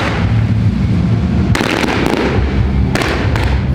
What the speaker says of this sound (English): Fireworks to celebrate a well-made game.